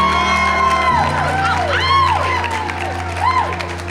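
A loud crowd at a Cleveland concert claps and cheers in a steady roar, with whoops and shouts rising over it throughout.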